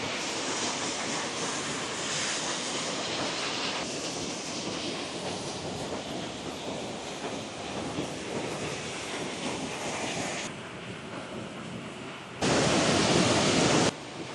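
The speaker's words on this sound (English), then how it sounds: "We're at this beautiful waterfall here, and it is wild." A wild waterfall in Wells Gray Provincial Park, heard as a loud, continuous broadband roar of rushing water close by, steady for the length of the recording, briefly louder near the end.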